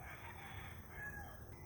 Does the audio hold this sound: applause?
no